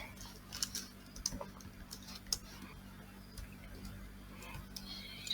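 Code is typed on a computer keyboard in short, irregular bursts of light key clicks, with a few louder taps standing out against a quiet, humming room.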